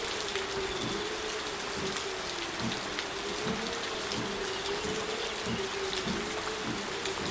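Rain falls steadily in a continuous soft hiss with scattered drop patter, alongside a constant low tonal hum, evenly loud throughout and with no speech.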